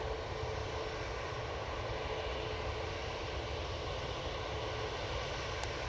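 Constant engine roar of a Eurowings jet on final approach to Manchester Airport, steady and moderately distant, with no talk.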